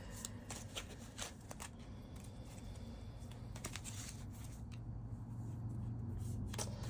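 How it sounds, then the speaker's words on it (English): A large tea leaf oracle card deck is shuffled by hand, giving quick papery riffles and soft clicks in uneven bursts, close and quiet over a steady low background hum. "This deck is massive. So Spirit, help me shuffle it the way that I need to bring your messages through."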